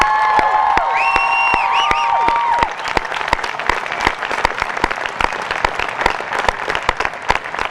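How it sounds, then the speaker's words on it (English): At a 2007 Coatesville Senior High School graduation, a crowd applauds the national champion cross country team; dense clapping under a brief burst of whistling and cheering gives way to sparser, individual claps. "Please join me, class of 2007, in a big round of applause for our national champions, the Bridgetown Cross Country Team."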